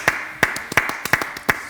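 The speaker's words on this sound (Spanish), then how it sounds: "Aplauso cerrado." Sharp, evenly spaced claps from a single pair of hands, about five strong strikes with softer ones between them, close and clear with no talk.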